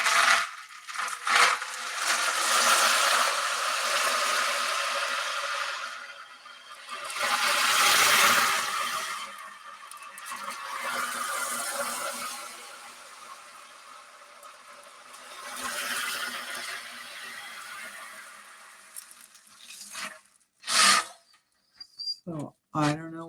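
An ocean drum rolled to mimic surf gives long swelling washes of broadband hiss that rise and fade in slow waves, with a few sharp rattles and taps near the end.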